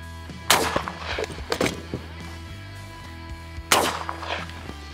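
Two loud, booming 12 gauge semi-automatic shotgun blasts, one each from a Beretta A300 Ultima and a Winchester SX4, spaced about three seconds apart at an outdoor range, each followed by a short echo and faint handling noise.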